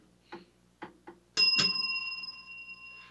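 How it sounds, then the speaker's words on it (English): A bell struck twice in quick succession rings out loud and bright, its sustained tone lingering and slowly fading after a few short knocks in a quiet room. "Well, that was the double bell."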